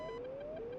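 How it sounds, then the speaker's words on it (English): A short, faint electronic missile launch warning tone from an F-15C radar warning system in a flight game beeps twice, a thin steady pitch with a slight upward glide, repeating quickly. "That is the sound of a launch warning."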